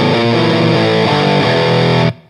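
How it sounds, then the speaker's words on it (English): Electric guitar played through a Providence Stampede DT distortion pedal with gain set about halfway, giving a thick, saturated tone. Sustained chords ring loudly and continuously for about two seconds, then cut off abruptly into a brief decaying tail. "The pedal sounds really thick and things get quite distorted"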